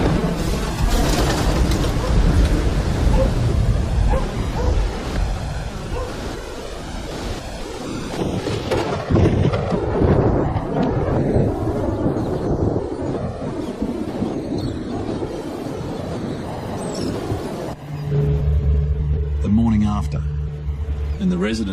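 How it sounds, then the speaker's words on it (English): Cyclone Ida's wind tears through a town, roaring gusts and heavy rushing noise buffeting the microphone throughout, with a narrator speaking over it. "The wind tears through town."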